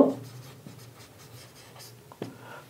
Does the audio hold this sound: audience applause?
no